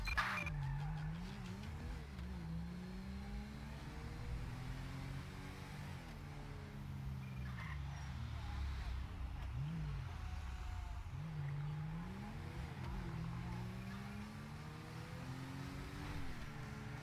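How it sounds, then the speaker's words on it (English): Cars racing through Murrieta Heights in GTA V with the LSPDFR mod, engines droning and revving continuously with rising and falling pitch sweeps, steady and fairly close with no talk. "We have vehicles racing in Murrieta Heights."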